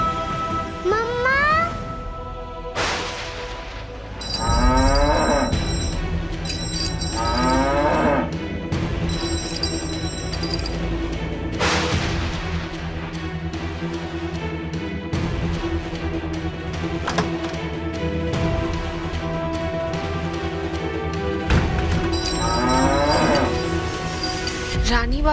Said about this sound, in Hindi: बार बार रंभा क्यों रही है?